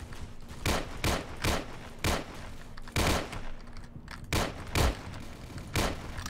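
Rapid bursts of gunfire from a gun in the Roblox war game Unit 1968, about ten sharp, loud shots in an uneven rhythm with no talking over them.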